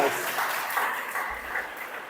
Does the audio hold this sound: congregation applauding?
yes